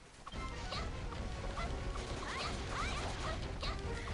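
Dog-like yips and whimpering cries from Berserker enemies in a video game, several short calls scattered through a loud, busy game soundscape.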